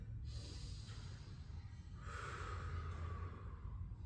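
A person breathes during a stretch: a soft inhale followed by a longer, audible exhale, close and quiet, with no speech.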